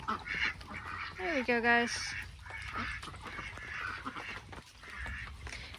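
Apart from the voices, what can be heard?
ducks being herded into their house at bedtime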